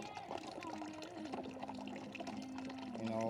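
Clothes are washed by hand in small buckets of water, with continuous sloshing and pouring close by under a faint tonal hum.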